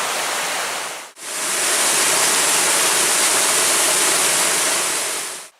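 A stream with rapids and tiers of small waterfalls on a forested hiking trail rushes loudly and continuously, a dense close wash of white water with only a brief dip near the start.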